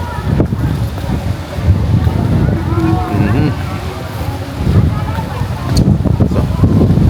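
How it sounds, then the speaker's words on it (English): Steady wind buffets the microphone on a Jamaican beach, gusting and rumbling low throughout, with a faint wash of surf or water underneath. "Kinda windy still down here guys. Real windy."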